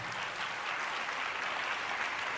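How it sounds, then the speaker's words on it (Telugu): A church congregation claps loudly together during a live worship message, a dense continuous wash of applause with no break. "గట్టిగా చప్పట్లు కొట్టి ప్రభువును అనుభవపరచండి."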